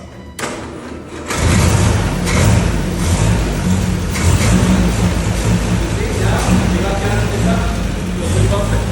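An old 1956 Land Rover Series engine runs steadily and loudly after a brief quiet start, a continuous low rumble with some voices faintly mixed in.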